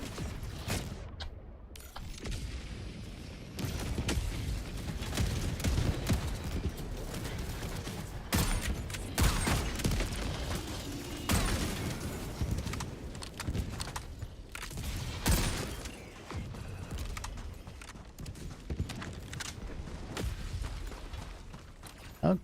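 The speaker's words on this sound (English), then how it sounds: "Of course, autocannon sentry." Rapid autocannon sentry fire in Helldivers 2 during a chaotic battle, loud repeated heavy bursts layered with explosions and mechanical clatter running throughout.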